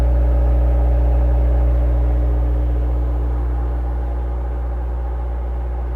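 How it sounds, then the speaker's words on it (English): A Cummins generator runs in the engine room of a Sunseeker Manhattan 68 yacht, giving a steady, loud, deep drone with a constant hum, alone and unbroken throughout. "And you can also see the Cummins generator."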